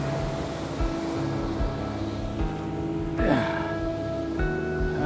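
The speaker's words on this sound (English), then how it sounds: "The tide is coming in, so I'll be conscious not to get off." Sea waves and surf roll onto Chemical Beach at Seaham on an incoming tide. A steady, washing roar fills the whole stretch, with some faint tonal hum beneath it.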